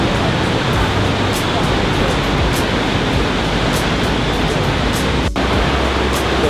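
Steady, loud roar of a waterfall close by, so near its spray falls like rain on a travel outing in Africa, a dense unbroken rush with no voices.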